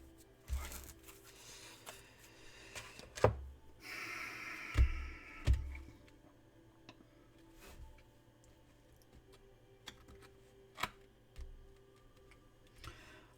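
A deck of tarot cards is cut and handled close by, giving scattered soft riffles and sharp taps separated by quiet pauses, with no speech.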